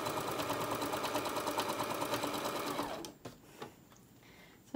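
A sewing machine stitches a fabric bag at a 2.5 stitch length, running in a fast steady whir with a clear rhythmic needle chatter for about three seconds before stopping, followed by a few faint handling clicks.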